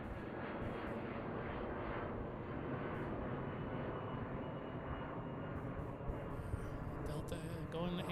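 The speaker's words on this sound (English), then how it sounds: "passing directly overhead right now" A Delta Airbus A330 widebody passing overhead near Boeing Field, Seattle, makes a continuous deep jet roar, loud and steady, with some clatter toward the end and no clear speech.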